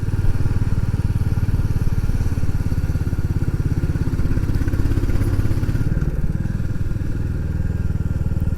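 Royal Enfield Classic 350 motorcycle engine pulling hard under load, a steady, loud single-cylinder thump running continuously and close, with a slight shift in tone near the end.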